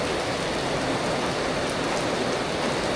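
Heavy rain pours loud and unbroken near a playground, a dense hiss of drops striking surfaces that stays even throughout.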